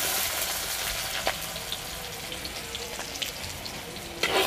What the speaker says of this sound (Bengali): এবারে দিয়ে দেবো কুচিয়ে রাখা পেঁয়াজ,